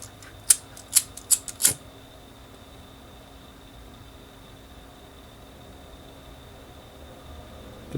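Scissors snipping through paracord, four quick sharp clicks close together near the start, then quiet low background for the rest.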